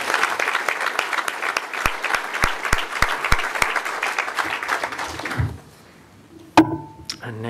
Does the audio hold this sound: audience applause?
yes